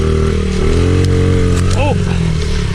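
A pit bike's small engine buzzes loudly and continuously while it is ridden over a bumpy trail, revving up and down close by, with a brief vocal exclamation near the end.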